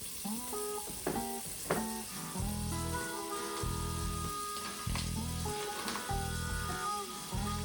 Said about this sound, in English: we're going to need a 1/4 stick of butter so our onions don't stick on the bottom. So we're going to put that in there to melt